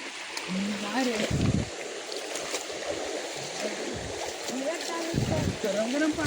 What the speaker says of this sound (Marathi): पाणी जोरदार आहे